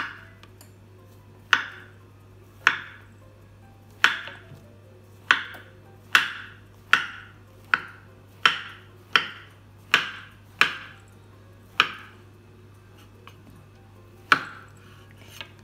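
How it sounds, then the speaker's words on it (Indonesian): A sharp knife slices through a block of tempeh on a small cutting board, about a dozen crisp, distinct chops with short uneven pauses between them, close and clear over a faint steady hum. "Tempenya dipotong-potong."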